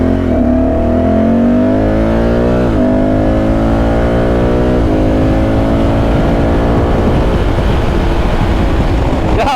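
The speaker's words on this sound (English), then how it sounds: "0 to 200 kilometers an hour, Honda Africa Twin Adventure Sports, with all the panniers and all the bags." A 2024 Honda Africa Twin Adventure Sports motorcycle loaded with panniers and bags accelerates hard on the Autobahn, its engine note climbing through several gear changes with wind roar building steadily, loud and close throughout.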